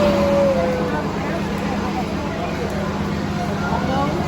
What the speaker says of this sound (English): You're just gonna ride a old regular bus.